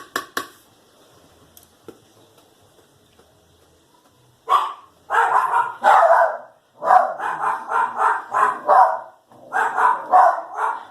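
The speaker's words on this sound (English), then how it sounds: "something's going on with the dogs" Several dogs barking indoors in repeated bursts of rapid, loud barks after a few quiet seconds with faint clatter, continuing in clustered volleys.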